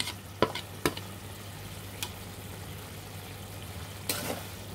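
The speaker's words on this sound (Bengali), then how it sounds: "একসাথে মশলাগুলো ভাজা ভাজা করে নিতে হবে।" Turmeric, chili and coriander powder fry in a pan for a mustard-fish curry, giving a steady low sizzle broken by a few sharp scrapes and clinks of stirring, close and without talk.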